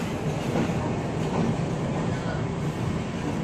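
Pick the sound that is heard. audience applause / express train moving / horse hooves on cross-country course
express train moving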